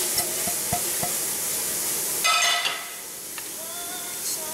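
Muffin batter of flour, baking powder, baking soda and salt being stirred in a bowl for guilt-free banana muffins, giving soft scraping, swishing strokes with a brief louder burst midway, close and on its own without talk.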